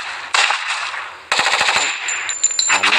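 Gunfire in the Shadow Guardian video game: rapid bursts of machine-gun fire, a short volley followed by a pause, then a longer run of sharp repeated shots with metallic ringing, loud and close.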